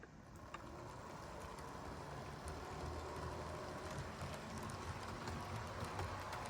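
HO scale model freight train with a Penn Central caboose running on track, a faint steady rumble and soft rhythmic clicking of wheels over rail joints, continuous throughout.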